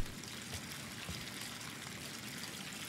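A tap runs in the video game Life is Strange 2, a quiet, steady trickle of water flowing without a break.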